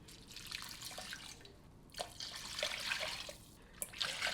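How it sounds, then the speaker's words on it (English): A cup of water is poured into a crockpot, making a steady splashing trickle with brief drips over a few seconds, fairly quiet and without talk. "I'm just gonna put in a cup of water."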